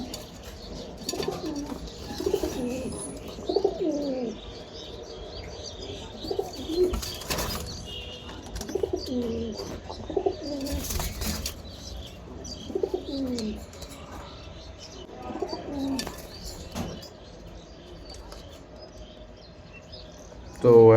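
A male pigeon coos in repeated low, throaty phrases at a moderate distance, with faint chirps and background noise around it.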